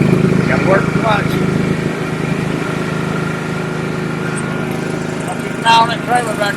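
A small engine runs steadily throughout, a continuous low drone with a brief surge near the end, under a busy background with some talk.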